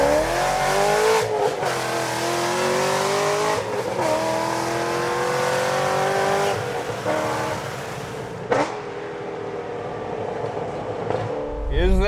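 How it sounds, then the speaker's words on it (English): A 700 HP C6 Corvette Z06 V8 with an aggressive cam, heard close and loud. The revs wind down from a rasping high pitch into a choppy, lopey idle, with a sharp blip near the end. "Is there a sound that you associate more with a specific country than a nice Lopey cam idle on an American V8?"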